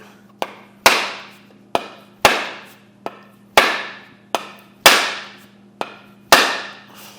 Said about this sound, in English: go ahead and give it a hit